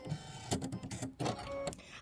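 A Brother embroidery machine stitches a quilt block in close bursts of clicking, whirring motor noise. The bursts are separated by brief pauses and lighter taps.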